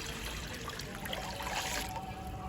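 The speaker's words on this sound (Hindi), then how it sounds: "2 जग मैं पानी डाल रहा हूँ इसमें।" Water pouring steadily into jugs while making watermelon sharbat, a continuous splashing trickle that holds an even level throughout, close and with no speech.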